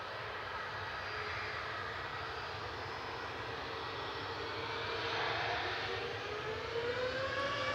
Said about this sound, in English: EasyJet departing to Malin.